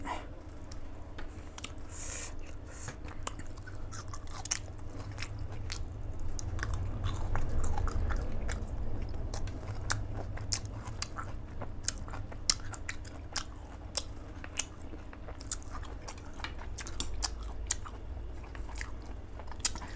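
People eating spicy eggplant soup with mackerel and blanched vegetables, quiet close chewing and biting with frequent small crunchy clicks and spoon sounds over a low background rumble, no speech.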